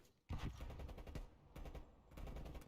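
Rapid bursts of automatic gunfire in a competitive shooter video game, loud and close, in several clustered volleys separated by brief pauses.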